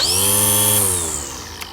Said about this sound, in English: This is the sound of the high setting